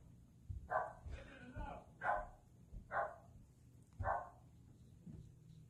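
A dog barks in four sharp, evenly spaced bursts, moderately close and loud, over a low steady background hum.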